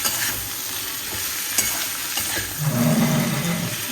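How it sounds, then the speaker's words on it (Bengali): Beans fry in a pan with turmeric added while a spoon stirs them. The scraping and sizzling stay steady and close, then grow louder and richer toward the end. "দেখো শিমগুলো ভাজা হয়ে গেছে, এবার একটু হলুদ দিয়ে দেবো"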